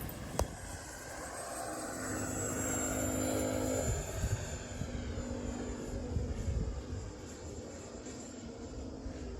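An XFly F-35 RC jet with a 64mm electric ducted fan flies by. Its high, whining fan roar swells and then fades with a Doppler sweep, heard at a distance over an outdoor background with no talking.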